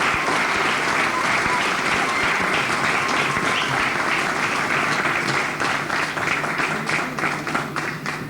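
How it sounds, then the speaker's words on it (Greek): An audience at a shadow theatre festival competition in Patra claps in sustained, dense applause, loud and close throughout, with a slight thinning toward the end. "ένα χειροκρότημα"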